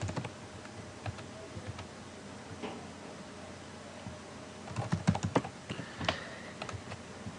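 Someone typing on a computer keyboard, irregular light clicks spread across the stretch, sparse at first and then a quicker burst of keystrokes, close and fairly quiet.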